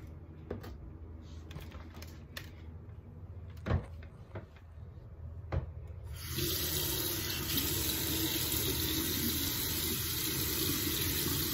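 A bathroom tap is turned on to wet skin before a body scrub, after a few knocks and clunks the water starts and then runs steadily and fairly loud for several seconds.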